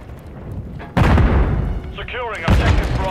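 Pistol gunfire in a first-person shooter video game, a few heavy booming shots with bursts of noise, loud and close, mixed with game voices and other sounds.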